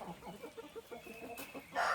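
Chickens on a rural household plot cluck in a quick, soft run of short notes, fairly close, ending in a brief burst of louder noise.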